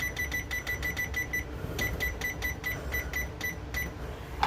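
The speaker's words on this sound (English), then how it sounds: "we're going to put on our timer" A kitchen timer set for baking a fruit pizza beeps in quick repeated double pulses, a steady run of short electronic chirps followed by a slower series, clear and close with no talking.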